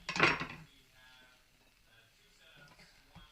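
A short clatter of a knife against a plate or board near the start as a fresh spring roll is cut in half, followed by quiet room sound with faint background noise.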